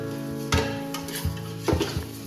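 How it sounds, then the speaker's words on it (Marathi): Broken wheat lapshi roasted in hot ghee and stirred, close sizzling under a few distinct scrapes and clinks of a spoon against the pan. "आता लापशी छान तुपामध्ये छान अशी परतून घ्यायची"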